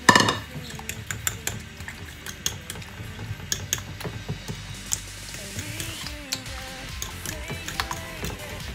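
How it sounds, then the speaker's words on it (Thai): Eggs being beaten in a bowl for steamed egg with minced shrimp, a quick run of light, irregular clinking taps of utensil against the bowl, close and fairly soft, with no talk. "เราก็จะมาตีไข่นะคะ"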